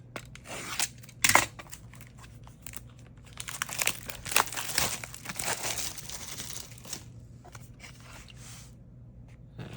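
Packaging crinkles and plastic wrap tears on a Magic: The Gathering Edge of Eternities booster box, with bursts of crumpling and scratchy rustling close up and no talking.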